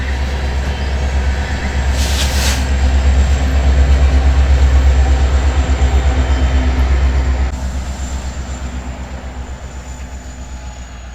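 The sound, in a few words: BNSF freight train pushed by SD70ACe locomotive 8446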